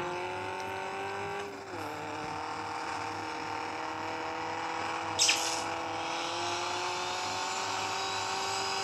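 A car in a racing video game drives at full speed, a steady high engine whine that holds constant with a brief dip and one short sharp burst midway.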